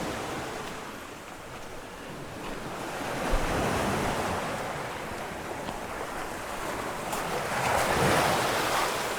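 Surf washing onto a secluded white sand beach on Siquijor island, a steady broadband wash of breaking waves with gusts of wind across the microphone, swelling louder around the middle and near the end, with no voices.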